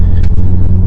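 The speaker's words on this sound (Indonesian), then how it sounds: "Ini suara Valvetronicnya kenceng banget dan suara bagus." Peugeot RCZ two-door coupe with a four-cylinder engine and Valvetronic, idling loud and close with a deep steady rumble and slight revving pulses.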